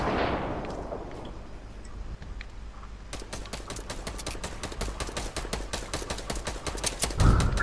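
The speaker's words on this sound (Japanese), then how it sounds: "あいつら爆発物使うのか。" Rapid bursts of explosive and gunfire-like blasts in a Fortnite match, dense sharp cracks repeating quickly for several seconds after a quieter opening, fairly faint in the mix with no speech.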